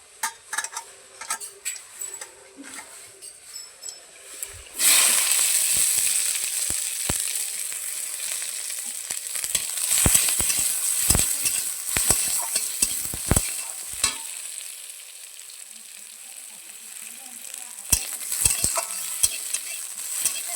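Sliced onion dropped into hot oil tempered with panch phoron, bursting into a loud sizzle after a few quiet clinks, then crackling steadily with repeated spatula scrapes and taps against the pan.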